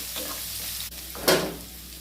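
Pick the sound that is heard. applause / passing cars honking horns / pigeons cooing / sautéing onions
sautéing onions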